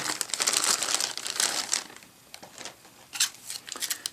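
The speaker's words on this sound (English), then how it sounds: "Pull it out of the bag." A Zotac Zbox Nano Plus mini PC slides out of a crinkly plastic bag, giving close, bursty rustling and crumpling, loudest at first, then thinner crackles and scrapes in short spurts.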